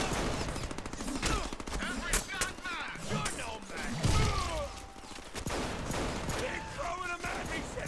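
Shotgun blasts and other gunfire ring out in the Deadpool video game, a dense flurry of loud sharp shots mixed with game sound effects and voices, close and continuous.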